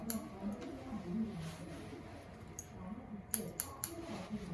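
Scissors snipping hair during a square layer haircut, several quick crisp cuts in small bursts, close and fairly faint.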